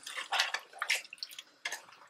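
About a cup of water splashes from a container into a pan of potatoes being cooked for a spicy aloo dish, in several uneven gushing bursts with short pauses between them, close and fairly loud.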